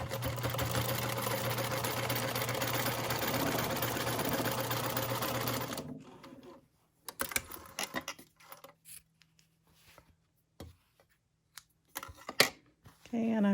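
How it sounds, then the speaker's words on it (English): A sewing machine stitches a quarter-inch quilt seam in one steady, continuous whirring run for several seconds, then stops, followed by scattered handling clicks and rustles. "And then I'm going to sew down the edge. 1/4 inch seam."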